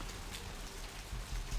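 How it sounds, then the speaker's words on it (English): Rain falling in the video game Vampire the Masquerade: Bloodlines, a faint, steady hiss of drops with a slight low rumble, no voices. "It's raining again."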